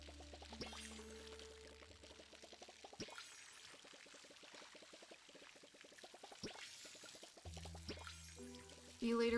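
Watering crops with a watering can in the farming game Palia, a steady pouring trickle of water under light background music with plucked tones.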